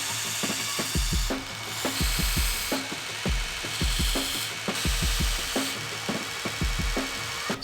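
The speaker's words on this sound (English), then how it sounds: "this is a Scotch-Brite belt, and basically what I'm doing is taking the rest of the slag from the heat treatment process off" A Scotch-Brite belt sander grinds heat-treatment slag off a fixed-blade EDC knife blade, with a steady abrasive whir broken up by repeated short scraping passes of the steel against the belt, close and fairly loud.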